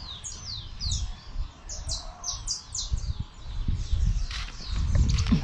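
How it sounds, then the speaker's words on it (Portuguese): Canaries chirp in a tree at a country farm, a run of bright, rapid tweets repeating near and clear over low rustling and footstep-like thumps. "Os canarinhos aqui na árvore."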